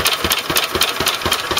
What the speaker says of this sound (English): This is a working engine